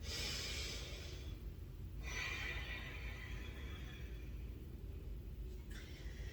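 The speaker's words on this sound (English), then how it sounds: "Let's take one cleansing breath here." A single deep cleansing breath during a wrist-free yoga flow, a soft airy inhale followed by a longer exhale, faint under a constant low background hum.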